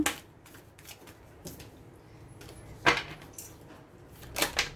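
Oracle cards being shuffled for a tarot reading, heard as close, soft bursts of card riffling and papery rustles spaced irregularly, with a few sharper slaps, and no talking.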